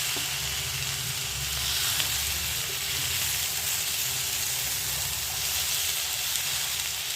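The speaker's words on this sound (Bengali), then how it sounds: "বেশ ভাজা ভাজা হয়ে এসছে বাঁধাকপিগুলো।" Shredded cabbage and Gobindobhog rice fry in a pan with a steady, close, even sizzle that holds for several seconds, with no voices.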